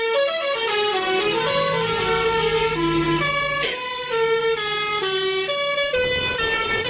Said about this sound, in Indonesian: Ayo kita dengarkan suara klaksonnya.